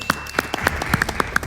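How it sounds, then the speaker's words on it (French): A studio audience at a French quiz show gives brief scattered applause, a handful of sharp claps spread through a second and a half at moderate level. "on peut déjà les applaudir"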